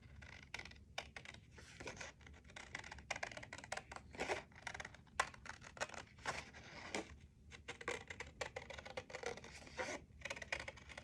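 Paper being cut for a scrapbook page, heard as faint, close, irregular crisp snips and scratchy rustling that continue throughout with short pauses and no talking.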